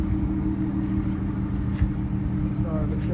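A Mercury Marauder idles nearby after pulling up at a car meet, a steady low rumble of the V8 with slight revving, while people talk over it.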